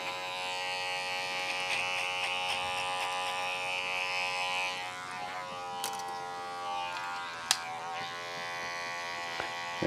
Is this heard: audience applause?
no